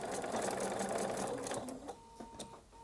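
A sewing machine stitches fabric in a steady, fast mechanical whir that runs close and loud, then stops, leaving a few light clicks and a faint hum.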